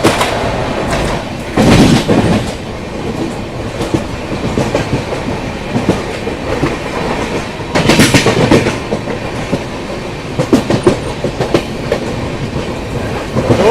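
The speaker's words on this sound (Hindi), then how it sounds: "जोधपुर वाराणसी मरुधर एक्सप्रेस। आगरा वाली लाइन से आ रही है मरुधर एक्सप्रेस" Marudhar Express train running on the Agra line, a loud, steady rumble of passing coaches with rhythmic wheel clatter and a few louder surges, no voices.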